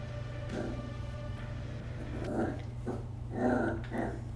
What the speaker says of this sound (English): there's my puppy Ozzy, and he's getting frustrated because I'm not playing with him right now